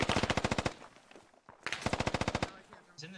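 Heavy machine gun fire in a military shooter game event, two rapid bursts of about a dozen evenly spaced shots each, sharp and fairly close, with quieter sounds between them.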